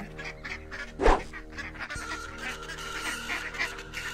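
Ducks in a cartoon give honking, goose-like quacks, with one loud call standing out over a busy layered backdrop of other calls and sound effects.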